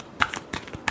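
Tarot cards are shuffled in a few quick riffling bursts, close and fairly soft, over about a second with no talking.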